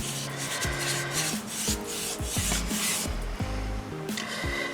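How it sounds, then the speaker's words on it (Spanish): Hand sanding of pallet wood, repeated scraping strokes in an uneven rhythm, close and fairly loud, with no voices. "en este caso sí que tenía que lijarla antes de colocar el tinte, porque ha sido mucho lo que he lijado."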